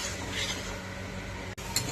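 Chana masala being stirred and fried in a pan, a short stretch of soft sizzling with faint scraping of a spoon against the pan and a brief clink near the end.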